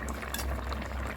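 Sambar, a tamarind-soured lentil and vegetable curry, bubbling hard in a pot, with a steady dense seethe and pops close by and no voices.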